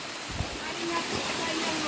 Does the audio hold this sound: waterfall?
yes